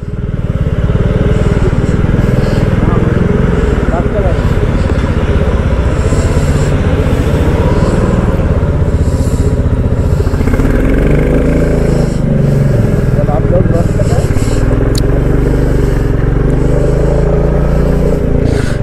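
A motorcycle waits at the Rohini toll plaza on a hill road toward Darjeeling, its steady engine rumbling loud and close throughout, with faint traffic and occasional clatter around it.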